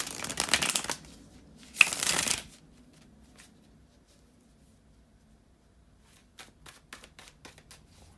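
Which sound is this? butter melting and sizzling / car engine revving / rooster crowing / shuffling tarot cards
shuffling tarot cards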